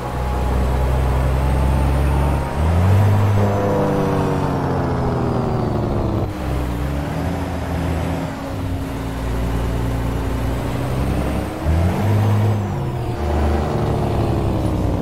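Peterbilt 388 truck in American Truck Simulator, a loud steady diesel engine drone that rises and falls through gear changes, with a sharp air-brake hiss partway through.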